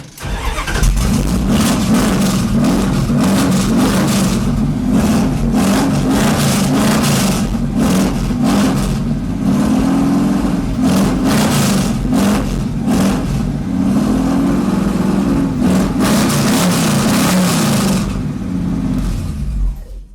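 A 1968 Dodge Dart engine with a new fuel pump runs steadily and loud up close, with repeated revs rising and falling over a continuous rumble.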